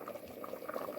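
A one-pot ital stew simmers in a pot, giving a steady, soft bubbling at low volume with small irregular pops and no talking.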